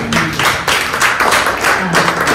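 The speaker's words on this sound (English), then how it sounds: "let's put a round of applause" An audience at a county commission meeting applauds, with dense, lively clapping in uneven waves that carries on steadily throughout.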